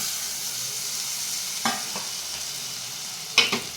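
Capsicum masala curry made with home-ground black masala is stirred in a pan, giving two short pairs of scraping clatters over a steady soft sizzle, close and moderately loud, with no voices.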